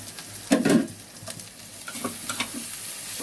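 Boiled dried fish (shutki) and garlic fry in a hot pan, with a burst of sizzling and stirring early on, then quieter scraping and light crackles.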